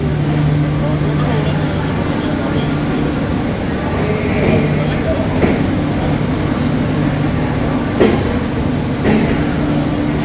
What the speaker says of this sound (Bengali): 3 মিনিট বিফোর টাইমে সাবরুম শিয়ালদা কাঞ্চনজঙ্ঘা এক্সপ্রেস ঢুকলো 12 নম্বর প্ল্যাটফর্মে।